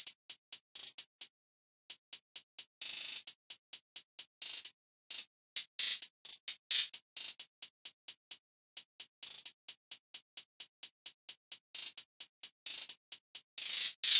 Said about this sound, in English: this is how the finished hi-hat pattern is sounding like